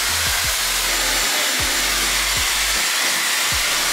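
A Dyson Airwrap hair dryer blows a steady, loud rush of air throughout, with a few soft low thumps as the tool shifts.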